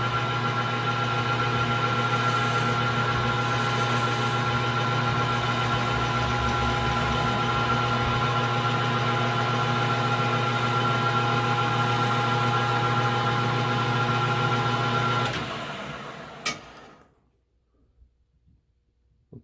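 A metal lathe turning a machinist clamp screw while putting a chamfer on its end, a steady loud mechanical hum with faint high squeals of the cut, running continuously before spinning down and stopping near the end.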